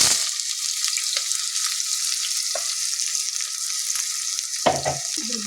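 Cinnamon and cloves frying in hot oil for a vegetable pulao, a steady close hiss and sizzle with a few small pops and a louder sputter near the end, no voices.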